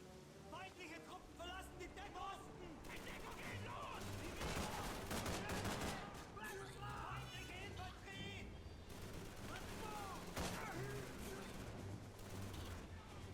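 Gunfire in the World War II shooter Call of Duty 3, short bursts of one or two shots mixed with distant shooting and battle noise, dense and continuous with voices and game sounds layered throughout.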